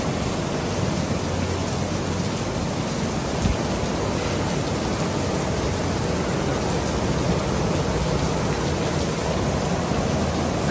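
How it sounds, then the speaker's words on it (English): Heavy rainstorm pouring steadily outdoors, a dense continuous hiss of rain close by with a faint low rumble, no voices, unbroken for the whole stretch. "It's been raining hard for about 20 minutes."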